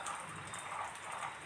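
Rain falls in a steady, soft hiss with no breaks, faint and even throughout, with no voices.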